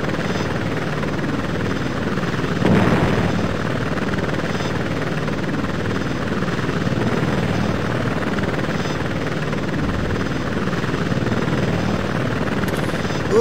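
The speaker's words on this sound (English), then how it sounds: "Whoa, look at those helicopters over there." Apache Longbow attack helicopters fly in a combat video game, a loud, steady rotor chop and engine drone continuing throughout with a brief swell near the start.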